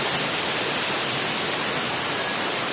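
Steady, loud rush of falling water at the Akasa Ganga waterfall in Tirupati, a dense unbroken roar filling the whole moment with no voices.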